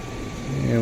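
Eurocopter EC135 helicopter engines running in the X-Plane 11 flight simulator, a steady mechanical hum and whine whose tone rises and grows louder toward the end, brief and continuous.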